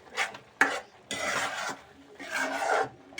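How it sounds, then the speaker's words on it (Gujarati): A spoon stirs boiled-egg curry gravy in a pan, with scraping bursts that come and go over about three seconds, close and moderately loud. "અને હવે આપણે હલાવી નાખશું."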